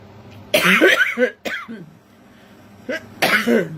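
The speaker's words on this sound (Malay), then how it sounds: "batuk-batuk sikit" A person coughs and clears their throat several times in close, rough bursts, with a short quiet pause between the fits.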